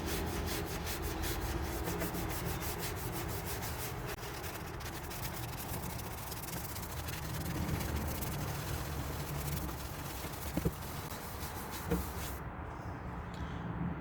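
Oil is worked by hand like wax onto a wooden coffee table top, making a steady, soft, continuous rubbing and wiping sound, faint and without speech.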